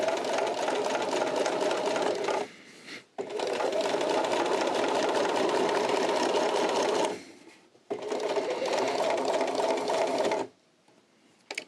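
A sewing machine stitches straight across coin purse fabric, running loud and steady in three long bursts with brief pauses between them, no voices present.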